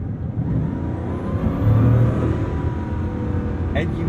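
A Bugatti Chiron Super Sport's engine accelerates under a light press of the throttle, a loud, deep, steady roar that swells and builds for several seconds from inside the car.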